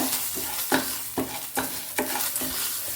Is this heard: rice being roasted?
yes